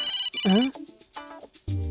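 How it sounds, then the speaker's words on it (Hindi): A telephone rings in a Hindi-dubbed South Indian action movie scene, a bright electronic ringtone with repeating tonal bursts heard up close, with music or low tones entering near the end. "अरे दुर्गा देवी का फोन है"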